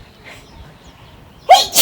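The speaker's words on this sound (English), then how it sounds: "And I'm going to sneeze." A single loud, sharp sneeze bursts out near the end after a quiet stretch, followed by a brief second exhalation.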